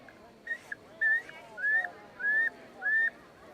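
An antique bird call whistle blown in four or five short, clear rising peeps with small gaps between them, close and moderately loud against a quiet background.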